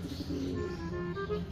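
A racing pigeon coos softly close by, a short low murmuring call over a quiet background.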